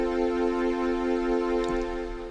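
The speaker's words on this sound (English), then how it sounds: "And then the strings sounds like this." Strings layer of a Trident MkIII synthesizer patch, a bright sustained chord held steadily for a couple of seconds, alone and fairly loud.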